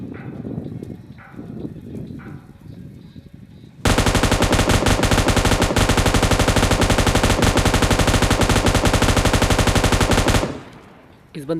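Automatic gunfire in the mobile shooter PUBG Mobile Lite follows a few seconds of quieter in-game ambience, then runs as one loud, unbroken rapid burst for roughly seven seconds before cutting off.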